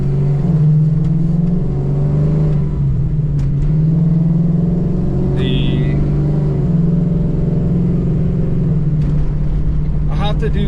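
Coyote V8 swapped into a 1991 Ford Mustang Foxbody with a 10-speed automatic and 2.73 rear gears, droning steadily under acceleration as heard from inside the car, a loud continuous engine rumble throughout.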